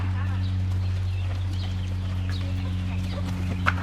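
A horse canters under a rider in a riding lesson, its hooves sounding against a steady low background hum, with a few sharper hoof strikes toward the end.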